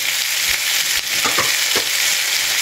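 Tomatoes sautéing in a pan, a loud, steady hiss and sizzle up close with a few soft stirring knocks and no talking.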